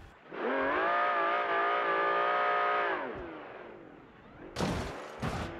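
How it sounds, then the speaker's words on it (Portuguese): An old Ferrari in BeamNG.Drive holds a loud, high engine rev for a few seconds that sags away, followed by two sharp, harsh crash impacts as the car is smashed. "esse carro tá sendo esborrachado"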